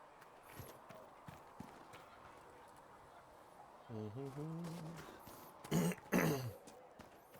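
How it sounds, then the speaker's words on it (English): A man coughs twice in quick succession, close and sharp, over quiet video-game sound with horse hooves and a character speaking during play of Dragon Age: Inquisition. "I'm aware I keep coughing."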